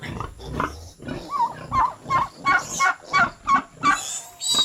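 A turkey gobbles in a rapid series of rattling calls, close and loud, with other fowl noises mixed in.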